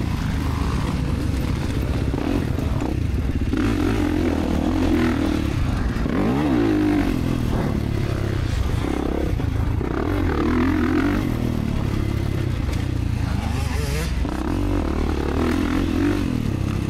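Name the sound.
Kawasaki KX450 and other motocross bikes riding the track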